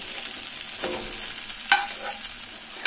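Fried potatoes being sautéed with drumsticks and a green chilli spice paste in a pan for a spicy vegetable dish: a soft continuous sizzle broken by a few sharp spatula scrapes, fairly quiet and near.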